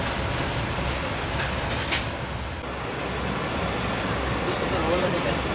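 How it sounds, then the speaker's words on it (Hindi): Train pulling out of Harappa railway station aboard the Karakoram Express, a steady loud rumble of the coach with faint rattling, and a voice talking over it. "बिलाखिर हड़प्पा से चल गई है ट्रेन।"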